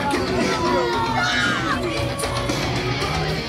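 A wrestling arena crowd at a main event keeps up a dense, loud roar of chatter, yells and shouts. An announcer's voice runs through the noise.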